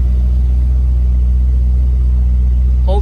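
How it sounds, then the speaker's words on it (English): A 2003 Corvette Z06 50th Anniversary idling close by, a steady, loud, low rumble with an even, unbroken tone, plus a brief higher sound right at the end. "car runs absolutely perfectly, it purrs"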